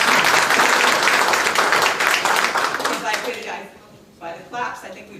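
Audience applause at a town hall meeting, dense clapping that holds loud for about three seconds, then thins and fades, with a few scattered claps trailing at the end.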